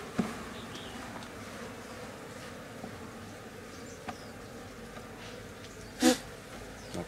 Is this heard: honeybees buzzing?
yes